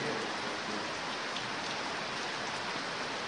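Rain falling steadily, a broad, close, even hiss of drops on a surface that carries on unchanged for a few seconds with no talking.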